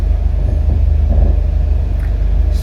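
A train rolls along the rails on a trip from Kevadia to Delhi, giving a continuous close rumble with a regular clicking beat from the wheels over the track joints and no voices.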